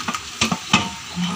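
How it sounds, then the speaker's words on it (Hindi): Pakoras drop into hot ghee and sizzle, with a few short, sharp bursts and then a soft steady frying hiss. "घी गरम हो चुका है, अब हम इसमें पकौड़े"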